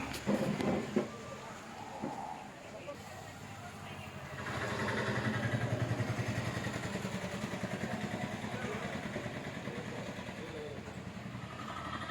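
Motorcycles and other vehicles stream steadily along the road to Sabarimala, and their engines make a continuous, moderately loud traffic rumble that swells after a few seconds. Voices can be heard briefly at the start.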